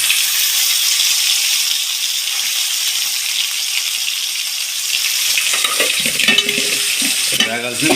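Sea-caught fish frying in a pan gives a loud, dense, continuous sizzle that stays steady and close, with some stirring and scraping clatter toward the end.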